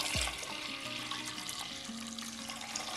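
Water poured into a pot of soaked lentils, a steady splashing gush with a rising gurgle as the vessel fills, close and continuous with no talking.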